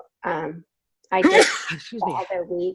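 A sharp sneeze bursts out near the middle, loud and close, between stretches of people talking at a team meeting.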